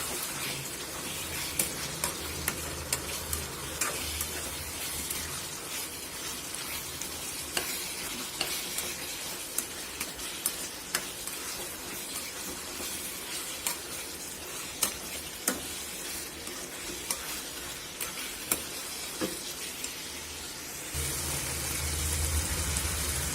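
Chicken or goat liver fry with pepper and cumin powder sizzling steadily in oil while a spoon stirs it, with frequent scraping clicks through the cooking; the sizzle brightens for the last couple of seconds.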